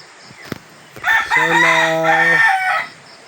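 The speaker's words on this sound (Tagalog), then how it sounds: "Meron pa silang manok. Ito ang kanilang manok." A rooster on a farm in Morong, Bataan, crows once, loud and close, a long drawn-out call lasting about a second and a half over faint background noise.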